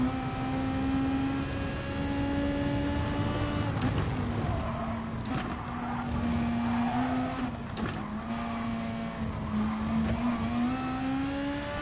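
Volkswagen Beetle in GT Sport, its engine holding a steady near drone with slight pitch shifts as it revs, continuous across the clip with a few faint clicks over it.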